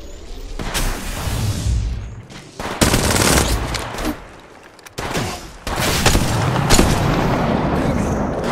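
Gunfire in the mobile game Apex Legends Mobile comes as loud bursts of rapid automatic shots, broken by brief pauses, then resuming as sustained fire close up.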